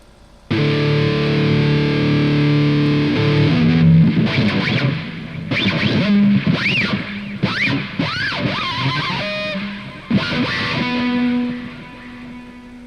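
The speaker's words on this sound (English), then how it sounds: "I'm getting a lot of reverb. Too much reverb." A distorted electric guitar run through heavy reverb and delay plays sustained chords and then bending lead notes. Long echoing tails wash over each phrase, loud and close, and ring out at the end.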